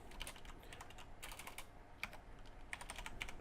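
Quiet, steady typing on a computer keyboard while entering values into battery cell software, soft irregular keystrokes with a few sharper taps.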